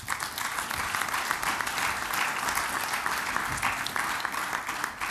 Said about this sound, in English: Please, can you give him a round of applause?